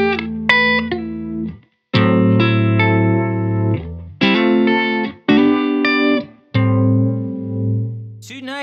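Electric guitar run through a Thorpy FX ER-2 Uni-Vibe pedal set to vibrato mode, playing separate strummed chords that ring out with a wavering pitch, loud and near, with brief silent gaps between phrases.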